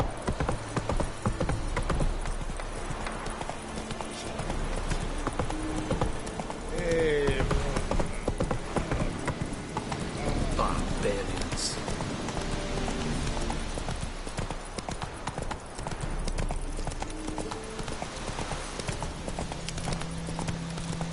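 Horse hooves clip-clop in a steady galloping rhythm throughout a Witcher 3 game scene, with a rider's voice and occasional whinnies over continuous background ambience.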